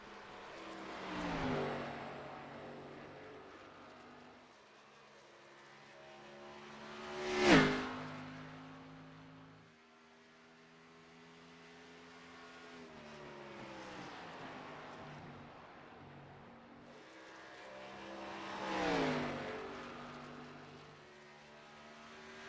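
Simulated race car engines in a racing video game at Nashville Superspeedway, including the No. 52 Napa car on its lap: a steady droning engine note that swells as cars pass by, with three louder passes and no talk.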